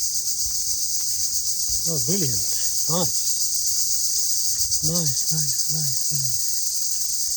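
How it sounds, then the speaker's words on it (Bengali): Crickets chirp steadily in a maize field, a dense high-pitched trill running through the whole stretch, while a voice breaks in with short delighted exclamations. "ঝিঝি পোকার শব্দ"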